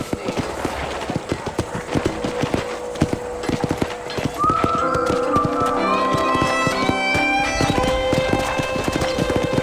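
Horses at a ranch corral in Red Dead Redemption: steady clip-clop hooves throughout, then a loud whinny and neighing from about four seconds on, close and clear with no talk.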